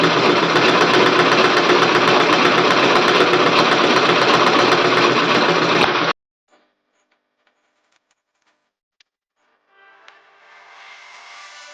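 An Usha sewing machine stitches fabric in a fast, steady, close whirring run for about six seconds, then stops abruptly, leaving near silence broken by a few faint clicks before a softer hum returns.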